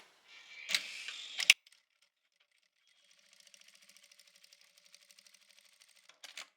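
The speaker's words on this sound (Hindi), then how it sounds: "बंद करने के बाद जो हमारा ये कपड़ा है इसको इस तरीके से अलग अलग करेंगे और इसके ऊपर से सिलाई लगा लेंगे।" A sewing machine stitching fabric for a Haryanvi daman skirt, a soft quick run of stitches after a few louder clicks and handling noises, quiet overall with no talk.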